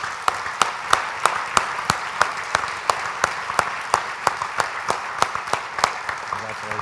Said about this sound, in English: Let's recognize him and give him a huge round of applause.